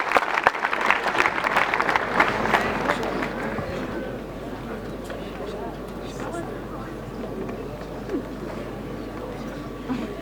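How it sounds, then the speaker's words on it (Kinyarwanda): Loud applause fills a church service led by a Rwandan pastor, a dense crowd clapping strongly for about four seconds before thinning into a lower wash of scattered claps and murmur. "amashyi menshi cyane"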